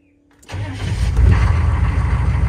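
A GM 6.5L diesel truck engine, cold after sitting for days, cranks briefly after a moment of silence, then catches and settles into a loud, steady, close-up diesel idle.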